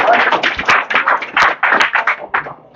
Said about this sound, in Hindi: इनके लिए जोरदार ताली बजाते भैया